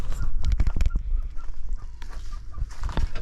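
Captive Lady Amherst pheasants call from their pen, giving a quick cluster of loud, harsh, clucking notes near the mic, then scattered softer calls amid faint background rustle.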